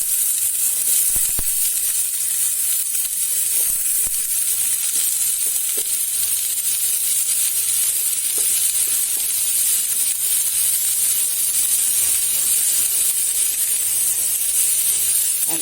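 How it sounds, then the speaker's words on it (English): Onions frying in oil over a fire: a continuous, even hiss of sizzling fat, loud and close, with a few faint stirring knocks and no talk. "the first ingredient that goes in to the fire is of course the onions"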